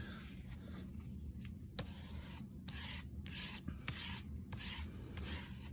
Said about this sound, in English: I'm going to scrape it off of here